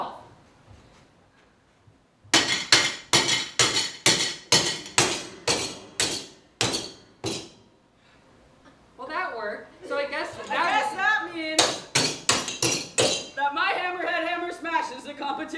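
A rapid series of about a dozen loud, sharp hammer blows smash a plate, then voices talk and laugh on a variety show stage, followed by another burst of quick strikes.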